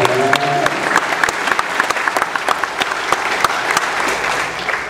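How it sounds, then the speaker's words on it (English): An audience bursts into applause after a slam poetry performance, with loud, dense clapping running continuously and evenly throughout, and no one speaking over it. "Please give Polly a round of applause for that slam."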